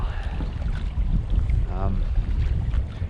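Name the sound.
wind blowing at a reservoir on a boat trip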